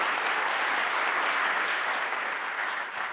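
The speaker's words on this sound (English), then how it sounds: "let's give a round of applause to everyone here tonight" A theater audience at a Pittsburgh Public Theater Shakespeare showcase applauds steadily for a few seconds, a dense wash of clapping that slowly thins toward the end.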